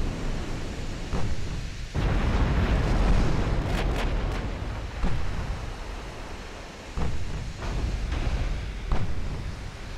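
Heavy shell impacts and big-gun fire on a battleship in a naval combat game, with deep booming blasts and rumbling crashes recurring every few seconds over a constant low roar.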